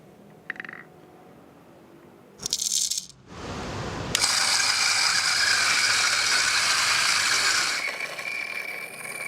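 A grinder coarsely grinds lightly roasted coffee beans in a loud, steady, rattling grind lasting several seconds, preceded by brief clicks and a short burst as the beans go in.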